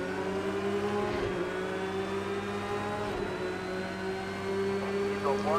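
Porsche race car engine at the 24 Hours of Spa in the racing game Project Cars 2, a steady loud drone with held harmonic tones and a brief rev change near the end, continuous throughout.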